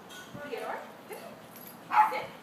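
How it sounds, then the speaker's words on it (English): Dogs bark and yip nearby during outdoor obedience training, a few short barks scattered across a brief stretch with the loudest near the end, mixed with light background noise. "As you can hear, there's lots of barking"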